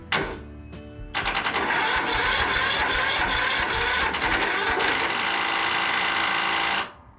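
The engine of a Toro SS4200 zero-turn mower, just fitted with a new head gasket, cranks over without starting: a steady, fast, buzzing churn of the starter that is loud and close for about six seconds, then cuts off.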